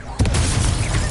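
A Confringo spell from Hogwarts Legacy goes off as a sudden booming blast that lands after a brief pause, then rumbles and crackles loudly to the end.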